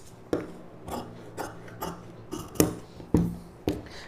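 Scissors cut blouse fabric in short strokes, a series of about eight crisp snips and clicks at an uneven pace, close and fairly quiet, with no voices.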